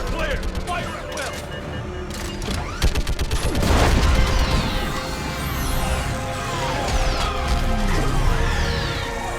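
Sci-fi combat in Mass Effect 3, with dense bursts of gunfire and crashing explosions. One heavy blast rises near the middle, and the battle noise stays loud and busy throughout. Voices are heard in the mix.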